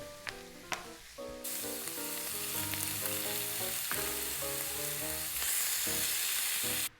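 Lamb meat hits a pan of frying onions and garlic, a couple of sharp clunks first, then a loud, continuous close sizzle that swells and holds to the end, with no talking.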